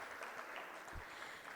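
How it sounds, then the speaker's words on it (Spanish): Audience applause for panelists at a child-nutrition foundation session, a steady wash of clapping from a crowd held evenly throughout, with one brief low thump near the middle. "El aplauso para ella y para Carmen"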